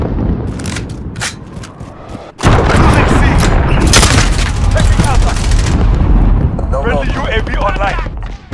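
Heavy, booming cruise missile strike explosions in a Call of Duty: Modern Warfare Domination match, a sudden loud blast cluster landing after a quieter stretch of gunfire and rumbling on for several seconds amid battle noise.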